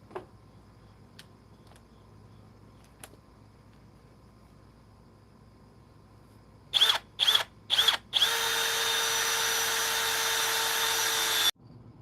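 A Harbor Freight power drill drives a screw: a few short whirring bursts, then a steady, loud high-pitched run of several seconds that stops abruptly, after quiet background with faint ticks.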